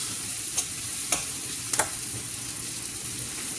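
Curry with sauced steak cooks in a pan, a steady close sizzle with a few sharp clinks of a spoon against the pan, no talking.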